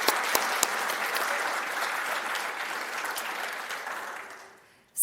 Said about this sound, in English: Let's give one more applause for our new friend,